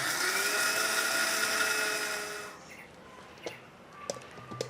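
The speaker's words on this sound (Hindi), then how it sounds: "अभी शक्कर को एक बार ऐसे ही पीस लेते हैं।" A mixer grinder dry-grinding sugar whirs loudly with a high motor whine for a couple of seconds, then stops, leaving faint clicks and small knocks.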